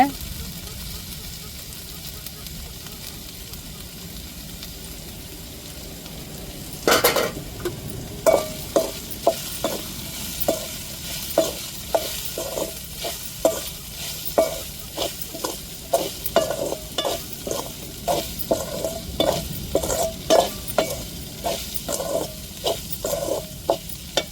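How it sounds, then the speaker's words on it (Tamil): Broad beans sautéing in a pan, a continuous close sizzle that turns after a few seconds into a rapid series of sharp scraping and tapping strokes as the beans are stirred steadily to the end. "அவரைக்காயை நல்லா வதக்கியாச்சு"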